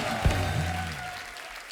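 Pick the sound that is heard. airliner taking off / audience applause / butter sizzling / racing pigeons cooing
audience applause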